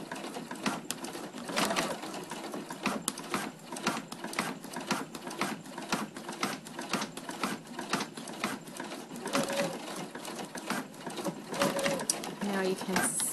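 A sewing machine stitches along a fabric edge for machine appliqué, making a rapid rhythmic mechanical chatter with brief pauses. Someone talks over it throughout.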